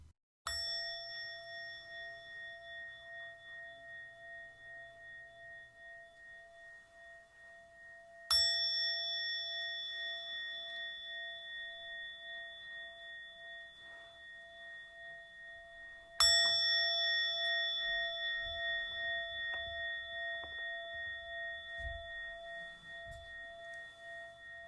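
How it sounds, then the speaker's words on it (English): A meditation bell is struck three times, about eight seconds apart. Each strike rings out as a clear, sustained metallic tone that slowly fades in a quiet room. "we'll ring the bell 3 times and take a deep breath with each ring of the bell"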